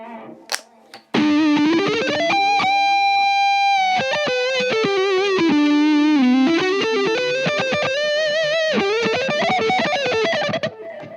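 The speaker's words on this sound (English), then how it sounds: "here is the first sound that I made, which is a Marshall JCM 800 type thing" An electric guitar played through a Marshall JCM 800 style amp model on a Blackstar Beam Mini practice amp with tape-echo delay: sustained distorted chords and melodic notes ring out for about ten seconds, with no talking.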